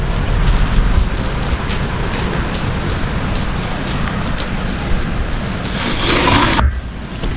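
Heavy rain pours down steadily in a dense, continuous hiss of drops on surfaces, loud and close throughout, briefly swelling before dropping off near the end.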